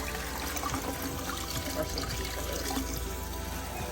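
Water runs steadily from a single-knob sink tap, a continuous close rushing flow that stays even for the whole stretch with no pauses.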